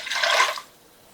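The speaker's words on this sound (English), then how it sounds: "I'm going to add another pint-sized jar of chicken broth" A pint jar of chicken broth is poured into a cooking pot in one short, close splashing gush that quickly trails off into quiet.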